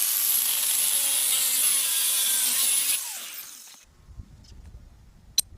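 A pure brass bar being cut for a karambit knife handle: a loud, steady, close power-saw whine for about three seconds, then it winds down into quiet handling clatter and a couple of sharp metallic clicks.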